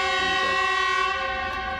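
A train horn blares a loud, sustained chord over the rumble of a train on a railway line near an ethnic Korean village in Yanbian, China; no one speaks.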